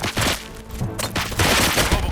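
Gunfire in the action game RoboCop: Rogue City, a rapid burst of sharp loud shots with booming thuds, clustered near the start and again in the second half.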